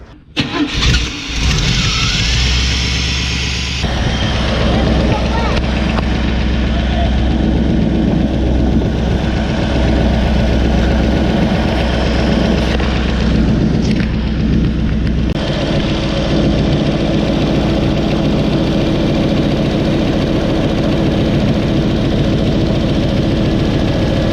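Car engine starts with a brief crank and catches, then settles into a steady, loud idle after an oil leak repair, running continuously with no talk.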